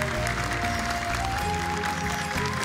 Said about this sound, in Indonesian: Boleh tepuk tangan untuk 4 peserta kita hari ini.